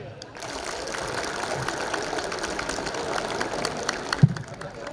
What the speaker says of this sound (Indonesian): Tepuk tangan siswa.